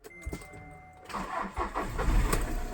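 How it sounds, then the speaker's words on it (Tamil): A Skoda Rapid diesel car cranks and catches, settling into a rough, steady idle that grows louder, close by and without talk. "வண்டியை ஸ்டார்ட் பண்ணியாச்சு."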